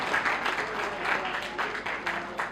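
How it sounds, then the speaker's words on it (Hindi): An audience at an award ceremony for an educational institute applauds a welcome, a moderate room full of hands clapping in continuous waves, nearby and even throughout the short stretch. "जोरदार तालियों से स्वागत"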